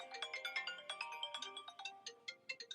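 A cell phone rings mid-recording at a scrapbooking table, its bright electronic ringtone melody playing as a rapid run of short, regular tone pulses for about three seconds with no talking over it.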